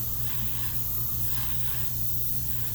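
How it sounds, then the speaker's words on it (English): A steady, broad hiss of a spray gun spraying paint, continuous and even for a few seconds, close by with no voices. "Spray it, stop, and take a look at it."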